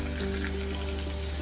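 Chopped onion drops into hot oil in a home kitchen pan while cooking cabbage, a close, steady, loud sizzle hissing throughout.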